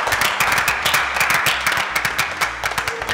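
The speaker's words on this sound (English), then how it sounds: "A round of applause to the new GO." A congregation applauds a newly appointed General Overseer in a church setting, with steady, close clapping that runs without pause for a few seconds while faint voices sit underneath.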